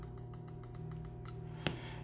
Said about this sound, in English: you just click the power button 5 times